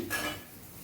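Freshly made paratha set into a hotpot food container, giving a short metallic clatter of the lid and pot, close and fairly quiet, with a faint ringing tail and no talk.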